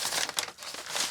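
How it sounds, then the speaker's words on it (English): Small USPS plastic mailing baggie popped and torn open up close, a quick series of crisp crinkling, rustling plastic sounds with no voices. "little baggie here. Pop that open."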